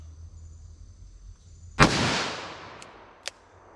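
A single .44 Magnum revolver shot fired single-action cracks out loudly and nearby after a quiet lead-in, its blast rolling off into a long decaying echo, followed by a faint sharp click.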